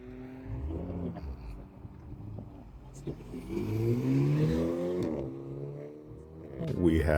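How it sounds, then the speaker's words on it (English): Harley-Davidson motorcycles rumbling past at a cars and coffee meet in Doncaster, a deep throbbing engine note swelling as they approach and fading, with chatter nearby. "There's just something about a Harley and that massive rumble it gives."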